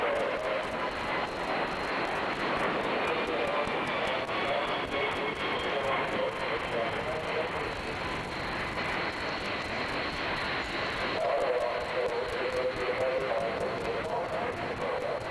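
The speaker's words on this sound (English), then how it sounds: "It's not often you see a passenger aircraft give such a spectacular performance." A passenger airliner flies a display at the 1998 Farnborough International airshow, its engines making a loud, continuous roar that swells and shifts in tone across the whole stretch, with a voice faintly underneath.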